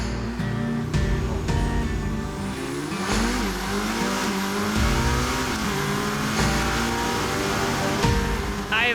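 A Corvette ZR1X launches hard off the line at a drag strip, its engine roaring loud and close as revs climb through several rising gear pulls with brief shifts, continuous and alone without talk.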